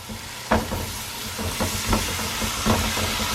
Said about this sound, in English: Now I'm gonna go ahead and add my can of diced tomato.